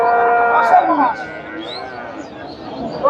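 Sahiwal cattle at a Chandaikona cattle market, with one close, loud, drawn-out low at the start that fades into background crowd chatter and voices.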